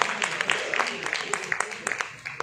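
A crowd at a yoga award ceremony in Kanpur claps in a brisk burst of applause for an honoree, with scattered individual hand claps near the microphone and a voice speaking over it.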